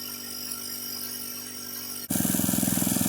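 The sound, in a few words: gold dredge engine running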